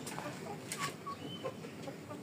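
Live chickens at a market in Malaysia give a few faint, scattered clucks against a steady hum of background market noise.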